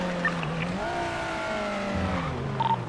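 A white BMW in GTA drives past with a steady engine hum that rises and falls in pitch, accompanied by faint tire noise, heard close and alone without any talk.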